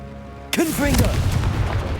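A Confringo blasting spell goes off in Hogwarts Legacy, a sudden loud burst with a whooshing, crackling flare that rumbles and fades, right after a quiet moment.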